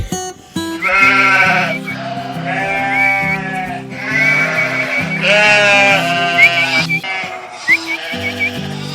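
Merino sheep bleat on a livestock farm, a crowd of loud, overlapping calls rising and falling almost continuously and close by, with no talking.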